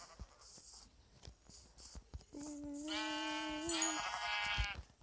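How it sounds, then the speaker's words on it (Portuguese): A Minecraft sheep bleats close by, one drawn-out wavering baa lasting a couple of seconds, preceded by faint scratchy game noises and soft clicks. "Aqui achei uma ovelha."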